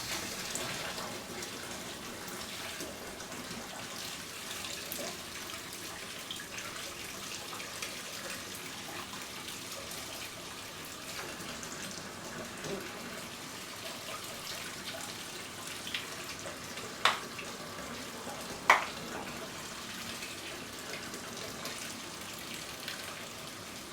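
Water runs steadily into a bath for the whole stretch, a continuous broad gush with no voices, broken only by two brief clicks near the end.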